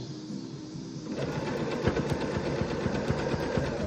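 A sewing machine stitches a round jelly roll fabric rug, starting quietly, then running steadily and loudly from about one second on with a fast, even mechanical whir and rapid needle chatter.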